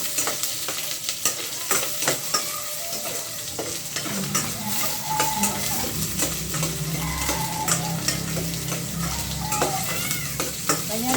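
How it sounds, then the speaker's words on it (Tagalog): Garlic, ginger and onion sautéing in a pan for chicken tinola, a loud close sizzle and frying hiss with repeated clinks and scrapes of a stirring utensil, and faint background sounds that may include a cat. "Eto, gigisa ko na, may bawang na, nag-brown na, tapos luya at saka sibuyas."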